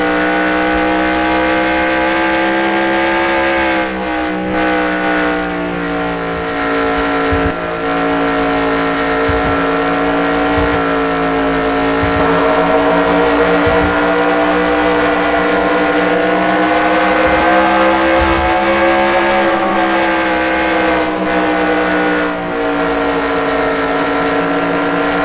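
A NASCAR race car engine in a racing video game, set at Dover, drones loudly and steadily at high revs with slight pitch shifts throughout, alone with no voices.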